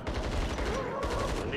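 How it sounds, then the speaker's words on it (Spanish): Rapid gunfire from the video game Killing Floor 2, a dense burst of loud shots packed close together over game music and effects, continuing steadily throughout. "Disparo, una muerte."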